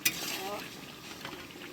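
A pot of red meat curry cooks on the stove while being stirred, giving faint soft scraping and sizzling with a small clink at the start, quiet and close.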